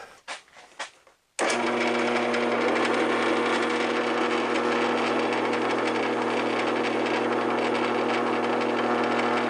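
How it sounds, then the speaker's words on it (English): A power drill starts abruptly after a few light knocks and runs steadily, a loud continuous motor whine with grinding as it bores a shallow 3/8 inch hole in wood. "Going to drill a 3/8 inch hole, not real deep."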